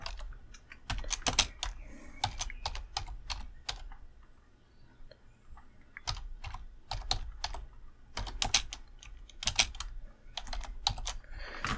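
Computer keyboard typing in bursts of sharp, close key clicks with brief pauses between, irregular rhythm, fairly loud and without speech, while correcting a small typo during a Simutrans session.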